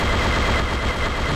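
Rapid, sustained weapon fire from Unreal Tournament ('99), Dreamcast port, as a dense continuous burst of shots filling the whole short stretch at steady loudness, with no voices.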